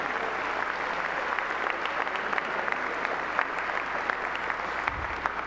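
A congregation at Mass in Mexico City applauds the diocesan choir and its reinforcements: steady, dense clapping from a crowd filling the church, sustained at an even level throughout.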